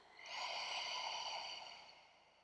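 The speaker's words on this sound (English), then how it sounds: "And one more deep breath out." A single long, steady exhale during a yoga session, a soft airy breath that swells quickly, holds, then slowly fades over about two seconds, close and alone with no talking.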